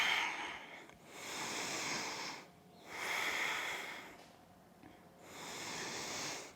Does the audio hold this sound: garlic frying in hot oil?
no